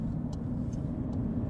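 Car cruising on the Autostrada toward Salerno, with a low steady road and engine rumble inside the cabin and faint light ticks above it, no one speaking.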